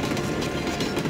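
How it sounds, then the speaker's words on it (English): Steady rumbling clatter of a runaway train from the Dreamcast game Zombie Revenge, a dense low rolling rumble with rhythmic clicking pulses, loud and close, with no voices. "This runaway train is loaded with explosives and the virus, and is headed for Cassandra."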